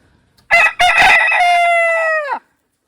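A tame farm rooster gives one loud, close crow of about two seconds, starting with short choppy notes and ending in a long held call that drops off sharply, with no talk over it.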